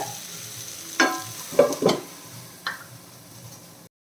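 Onion chicken frying in a pan as the pieces are turned over, a soft steady sizzle broken by a few sharp clatters of a spatula against the pan.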